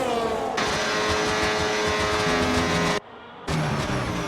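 Race cars in a racing video game at the Qatar circuit roar loudly onto the pit straight, a sustained high engine whine that cuts out briefly and then returns, no voices.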